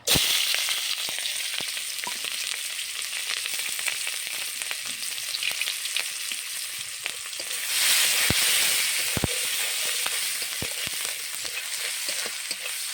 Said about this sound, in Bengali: আমি এখন তেলে কাঁচা পেঁয়াজ আর কাঁচা ঝাল দিয়ে দেব